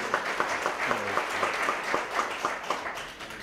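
Audience applause at the Atlas Award keynote for Israel's best startup, a steady patter of many hands with distinct individual claps, moderately close, with a brief voice murmuring partway through.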